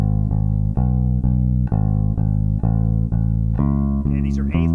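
Plucked, twangy string instrument playing steady eighth notes at 70 bpm, a repeated low note in an even pulse that shifts pitch near the end, close and clear without talk.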